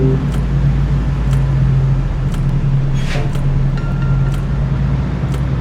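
A truck engine in Euro Truck Simulator hums steadily at close range while the rig drives, a constant low drone with faint clicks and a brief swell midway.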